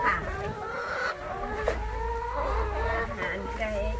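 Laying hens cluck continuously close by on a farm, with overlapping calls and some livestock bustle, and a voice speaks faintly beneath them.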